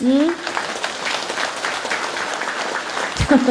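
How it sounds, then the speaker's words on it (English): An audience claps steadily for a few seconds during a spiritual talk, the dense applause continuous and fairly loud, with a brief voice at the start and a short speaking voice breaking in near the end. "You like to clap, huh?"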